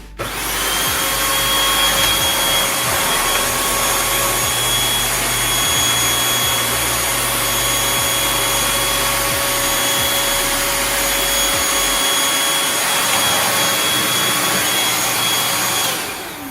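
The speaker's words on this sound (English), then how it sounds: "show you guys just how versatile this vacuum cleaner is" A Bissell Featherweight corded stick vacuum cleaner runs close by at full power, a loud steady motor whine with a high-pitched tonal hum, starting abruptly and continuing unchanged without speech.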